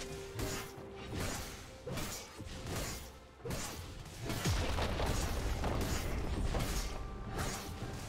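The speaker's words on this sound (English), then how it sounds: "Blue team's turret has been destroyed." A turret is destroyed in League of Legends, a series of whooshes, thuds and crashing impacts building to a heavier, sustained crumbling boom amid game effects.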